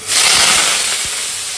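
Potatoes frying in a pan give a steady, close, broadband hiss of sizzling oil that holds at a fairly loud level throughout with no talking.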